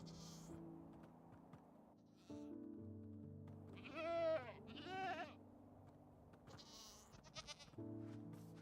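Goats bleat in a video game, two wavering cries close together near the middle over a steady hum of background game music, with no talk.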